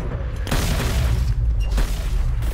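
Grenade explosions in the shooter game Hyper Scape, two or three deep booming blasts over a continuous low rumbling game soundscape.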